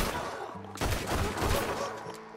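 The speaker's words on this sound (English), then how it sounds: "So I shot him in the head." A gunshot rings out in Red Dead Redemption 2, a burst of loud, close shots followed by echoing rumble that lingers and fades over a couple of seconds.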